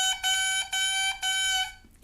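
A lone oboe reed crows in three tongued bursts, each a bright, buzzy, reedy squeal held for about half a second with short gaps between, fairly loud and close, then falling silent.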